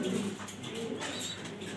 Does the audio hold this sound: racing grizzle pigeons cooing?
yes